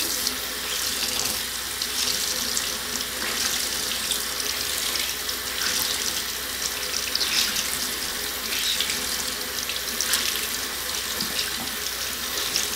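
Tap water runs steadily from a faucet to wet a makeup brush and sponge during cleaning, a continuous close splashing stream that fills the whole stretch with no talking.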